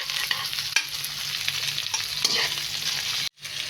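Diced boiled potatoes are stirred into a tomato mixture frying in a pan, giving a steady sizzle with scraping strokes of the spoon, close and clear, then a brief silence near the end.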